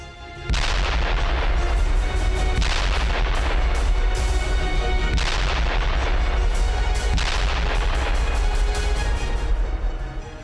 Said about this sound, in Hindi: आसमान से आईडीएफ की बमबारी